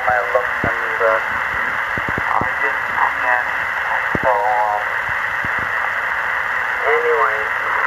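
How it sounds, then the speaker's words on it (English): Single sideband signal in lower sideband mode on a Heathkit HR-1680 SSB/CW receiver: garbled, pitch-shifted voice transmission buzzing through constant hiss and static, with faint clicks and crackles. "So here's an example of a single sideband signal."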